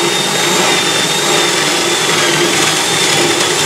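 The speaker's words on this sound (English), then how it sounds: "I'm drilling a 1-inch hole right here" A power drill boring a 1-inch hole in wood whines steadily and loudly at close range, a continuous high-pitched motor drone with no breaks.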